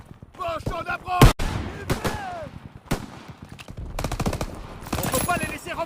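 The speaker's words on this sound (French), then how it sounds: "Ok, on va essayer de dégommer cette mitrailleuse." Machine gun fire in the video game Call of Duty WW2, loud bursts and single shots cracking over battlefield noise, with a rapid volley near the end and voices shouting between the shots.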